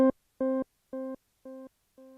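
Ambient Ø synthesizer note repeated by a middle-speed delay effect, five evenly spaced tonal echoes that fade progressively quieter, clean and isolated with no talking.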